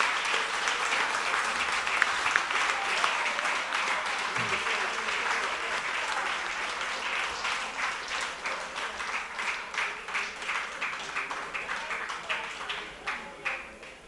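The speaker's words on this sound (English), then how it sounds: "I would ask you to give this lady from your constituency a lusty" Sustained audience applause at a political rally, a broad dense roar of clapping that continues for many seconds, gradually breaking into more distinct rhythmic claps toward the end.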